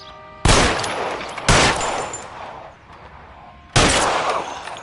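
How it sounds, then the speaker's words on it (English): Gunfire in the video game L.A. Noire: three loud, close bursts of rapid shots, each followed by a sustained crackling roar that fades slowly, with no talking. "Suppressing fire."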